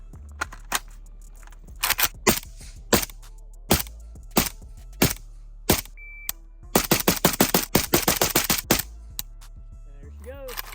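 Rapid rifle fire from a PSA Krink AK-pattern rifle in 5.56, sharp loud cracks in scattered single shots and then a fast string of shots near the end, with the barrel very hot after 500 rounds.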